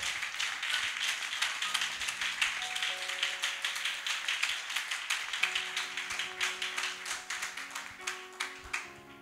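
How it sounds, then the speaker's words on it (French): A church congregation claps in steady rhythmic unison, with a sharp regular beat over quiet sustained music tones in the background. "Clap for Javi."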